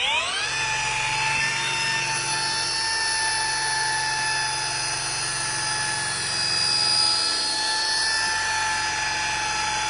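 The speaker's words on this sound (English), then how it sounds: "and now we're on the buffing stage" A rotary polisher buffs wet-sanded paint on a van during bad paint job repair, a steady high whine with bright tonal harmonics holding level and close throughout, varying only slightly in pitch as pressure changes.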